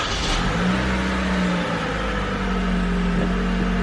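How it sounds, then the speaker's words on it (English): A 2012–2017 Toyota Camry XV50 engine starts with a brief cranking burst, then settles into a steady, loud idle drone. "now you would just go ahead and start the car"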